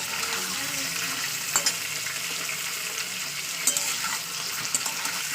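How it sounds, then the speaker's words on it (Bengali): Chicken pieces, including leg pieces, frying in a little hot oil, giving a steady close sizzle throughout with occasional brief pops and stirring clicks. "দেখতে পাচ্ছেন আমি চিকেনগুলো দিয়ে দিয়েছি দিয়ে হালকা করে তেল আমি ভেজে নেবো চিকেনগুলো"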